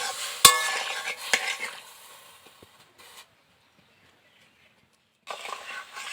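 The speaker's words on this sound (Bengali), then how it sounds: "হালকা গরম জলে একটু নাড়াচাড়া করে নেব" Cauliflower florets stirred by hand in warm water, with a watery swishing and sloshing that starts fairly close and loud, then fades to near silence before a brief return at the end.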